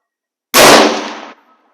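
A Swedish Mauser M-96 rifle fires a military-load cartridge: a single loud, close, sharp blast that fades over about a second.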